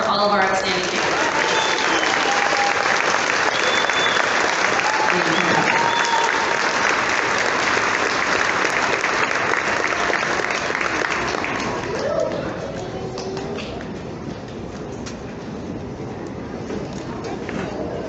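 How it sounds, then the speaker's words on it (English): An audience at an elementary school graduation ceremony claps in a long, dense round of applause that holds steady, then thins out and grows quieter toward the end, with scattered voices and cheers mixed in. "A round of applause for all of our outstanding people."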